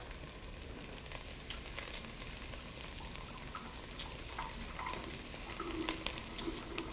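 Bacon chunks sizzling in a pan over medium-low heat, a soft, steady crackle and hiss with occasional sharper pops, fairly faint and close.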